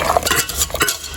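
A whisk or spoon scrapes rhythmically through a flan custard of egg yolks, sugar and cornstarch in a bowl, with quick, close strokes and no voices.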